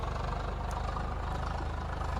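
Steady, rhythmic idling of a tractor engine in the video game Farming Simulator 22, a low even putter that holds constant from start to finish.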